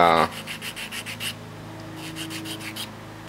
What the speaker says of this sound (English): smooth out that wood filler.